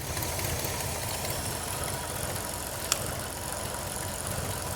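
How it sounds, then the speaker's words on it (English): A steady, even engine rumble from a GT40 replica supercar holds throughout at idle, with a faint rattle and one brief sharp tick partway through. "she idles really well"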